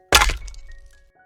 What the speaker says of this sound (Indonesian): Tiba-tiba Arden kejatuhan telur ayam ke kepalanya.